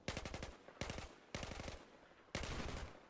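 Automatic weapon fire in the Battlefield 4 video game comes in four rapid, loud bursts separated by short pauses, with no talking.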